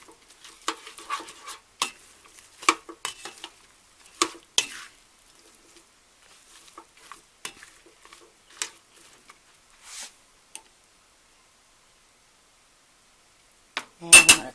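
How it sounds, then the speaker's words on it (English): Shrimp, broccoli and peas tossed in a pan, with a flurry of clinking and scraping stirs that thin out and go quiet before a final loud clatter at the end. "now I'm going to toss this up well"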